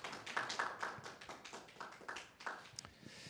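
Sparse, faint applause for an award recipient at a church ceremony, a small scattering of distinct hand claps and taps rising and falling quietly.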